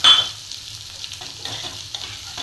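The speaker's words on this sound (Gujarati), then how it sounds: "હવે આપણે 250 ગ્રામ મેં તુરિયા લીધા છે એ નાખીશું." Sliced ridge gourd (turia) tossed into a hot pan gives a short clatter, then a quiet, steady sizzle under soft intermittent stirring.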